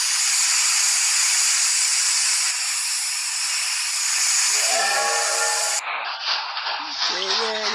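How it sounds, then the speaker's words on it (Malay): A steam train in the Roblox video game gives off a loud, continuous steam hiss that is joined partway through by a whistle-like tone, with faint talk underneath. "Okay, ada kereta api lah."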